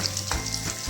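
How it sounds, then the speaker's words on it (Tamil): Paneer cubes sautéing in a pan for paneer butter masala, giving a dense, continuous close sizzle with a soft stir partway through, loud and steady. "பன்னீர் வந்து நல்லா வதங்கிட்டு இருக்கு"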